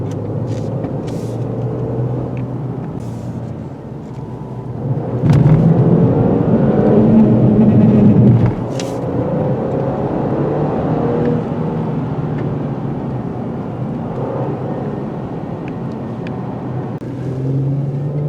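A 2019 Mercedes-Benz E450 4MATIC Convertible drives a curvy road, with a steady low engine and road drone throughout and a louder surge partway through, with no talk.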